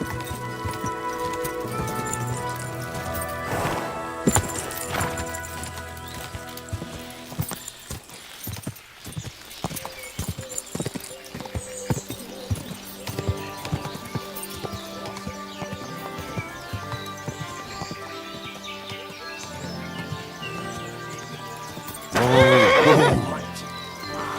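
A horse in the video game Kingdom Come: Deliverance 2 whinnies loudly near the end, over steady galloping hoofbeats and a busy musical backdrop with game-like effects.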